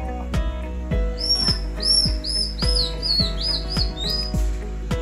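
A tribal bamboo whistle from Palawan imitates bird calls to lure birds, giving repeated bright rising chirps in a steady series over a droning, rhythmic background with regular low thumps.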